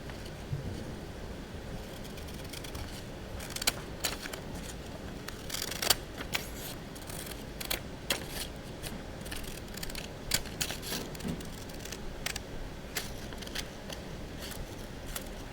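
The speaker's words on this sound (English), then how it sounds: "Now what you want to do is you want to grab your scissors. Now what you want to do is you want to cut this portion." Scissors cut through a portion of material with a steady run of sharp, close snips and crisp clicks over a faint background.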